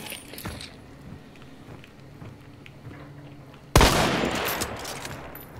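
Gunfire in a multiplayer shooter video game: scattered faint shots and thuds early on, then a sudden loud burst of rapid fire near the end that stays dense and sharp until the clip stops.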